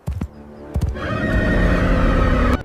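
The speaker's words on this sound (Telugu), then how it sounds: "ఎదురుగా ఉన్న గుహ ముందు ఆగి పెద్దగా సకిలించింది" A horse neighs loudly in front of a cave, one long, shrill whinny ringing out close after a few short thuds.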